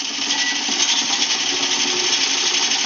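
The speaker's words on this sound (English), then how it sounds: "right there I'm cutting, I'm really not putting any force anywhere" A woodturning gouge cuts spinning wood on a lathe with the tool resting on the tool rest, a loud, steady, close shearing rasp that continues without a break and with no talking.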